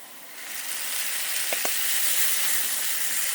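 Chopped tomatoes added to sautéed onions in a pan for egg masala: a close, steady sizzling hiss that swells as they hit the hot oil, with a couple of faint stirring clicks and no talking.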